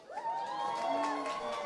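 An election results night crowd gives a cheering reaction for the sports officer result, with whoops and shouting voices rising together at a moderate distance in a sustained roar.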